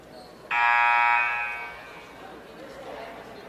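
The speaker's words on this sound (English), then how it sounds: "It's the final alarm going off to get the teams back on the floor" A loud buzzer sounds in a high-school girls' basketball gym, a sustained electronic tone blaring for about a second before trailing off into crowd chatter and murmuring voices.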